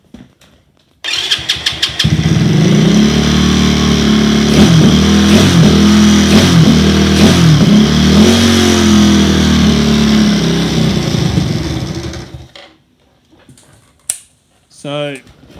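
A postie bike engine with a third carburettor starts and revs unevenly, running lean on its first run, loud and close, its bursts of throttle rising and falling before it cuts out into brief talk.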